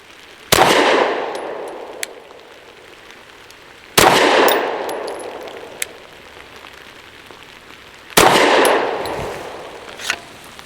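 Three sharp, loud pistol shots spaced about four seconds apart, each with a long decaying echo, fired from a SIG 365 with 115 grain ammunition through a ported 4-inch barrel.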